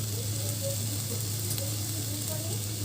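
Room-temperature water hits a hot pan of chicken for a vegetable soup, setting off a loud, steady sizzle with bubbling and hiss, close up, with no break.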